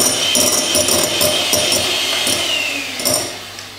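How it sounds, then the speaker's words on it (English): An electric mixer beats a chocolate and water mixture into egg yolks and sugar for a chocolate mousse cake, giving a steady close whirring drone with faint rhythmic scraping against the bowl, alone without talk. "Adding now the chocolate and water mixture into the egg yolks and sugar, and we let them beat just for a couple of minutes."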